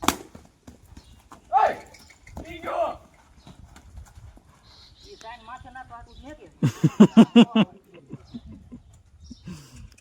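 A Kathiyawadi horse named Dhanraj clip-clops in a quick burst of loud hoofbeats near the end, after scattered footfalls, with people talking and calling around it outdoors in a village.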